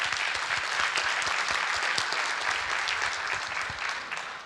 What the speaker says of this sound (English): That's me clapping to you.